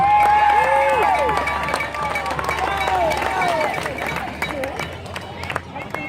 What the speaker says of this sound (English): Cheer that tandem on.